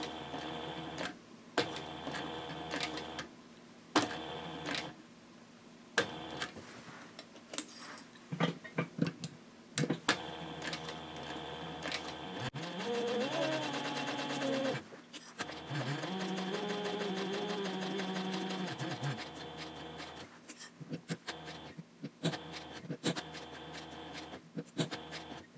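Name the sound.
sewing machine stitching handbag around curve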